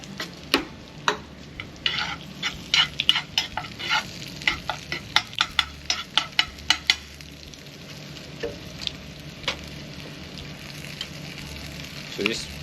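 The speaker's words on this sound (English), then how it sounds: "So we'll let that fry off a little bit." Lobster pieces frying in a hot pan for a quick lobster pasta, with a steady sizzle punctuated by many sharp clicks and scrapes of a utensil stirring, louder in the first half and then settling into a softer hiss.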